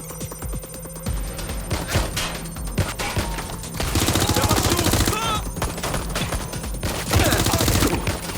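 Gunfire in the Watch Dogs Legion video game crackles in rapid automatic bursts and scattered single shots, growing denser and louder partway through, with an urgent voice briefly speaking over the action.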